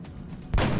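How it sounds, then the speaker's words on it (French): A sniper rifle shot in the video game XCOM Enemy Within, a single heavy boom that hits hard midway and then rolls on in a sustained rumble over low game ambience. "Ça c'est du sniper."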